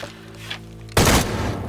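Gunfire in the game Shadow of the Tomb Raider erupts as a sudden loud burst of shots after a quieter stretch, close and dense.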